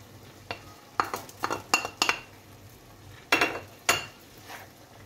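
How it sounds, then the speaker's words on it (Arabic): Metal utensil scrapes and clinks against a pan while chicken breast, onions and peppers are stirred, a series of sharp, close strikes in irregular bursts over a faint background hum. "راح اضيف عليه صدر الدجاج. واقلب."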